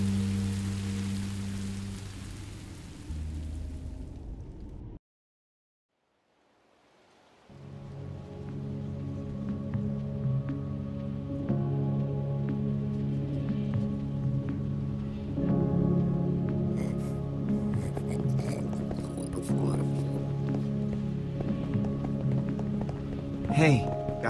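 Steady rain falls in Minecraft Story Mode, a continuous hiss after a brief silence, with voices speaking over it at the start.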